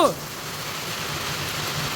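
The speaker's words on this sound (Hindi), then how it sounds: "बहुत तगड़ी बारिश पड़ रही है।" Heavy unseasonal rain falls steadily as a broad, even hiss throughout, after a brief louder burst at the very start.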